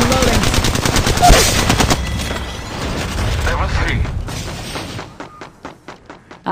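Rapid bursts of automatic gunfire from Apex Legends Mobile, loud and near, fill most of the stretch before giving way to a sparser series of individual shots at the end. Speech is faintly present.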